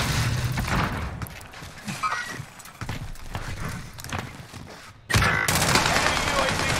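Grenade blast and gunfire in the Call of Duty Warzone map Rebirth Island, a dense, busy stretch of game combat under players' chatter, with a sudden louder burst near the end.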